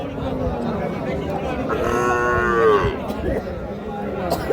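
A Sahiwal bull calf at a cattle market lets out one drawn-out moo midway, over a constant murmur of crowd chatter from the market.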